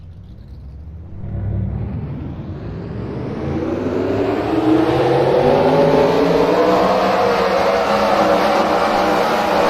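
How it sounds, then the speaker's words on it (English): Race trucks in a racing video game roll off together, engines building from a low rumble into a steady, loud revving roar that swells and sustains. "now let's have the cars roll off."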